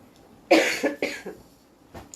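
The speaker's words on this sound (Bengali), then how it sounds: "কাশি যে উঠলো এখন তো ভয় লাগতেছে, গলা খুশখুশ করতেছে" A woman coughs indoors with a sore, itchy throat: a close burst of three quick coughs followed by a fainter single cough.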